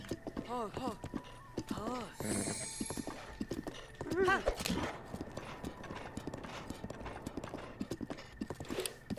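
Rhythmic clip-clop of horse hooves in Breath of the Wild, steady trotting beneath someone talking, with a brief whinny partway through.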